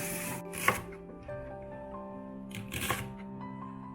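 Blanched garlic chive flowers being cut, with two distinct snips about two seconds apart over a steady tonal background hum.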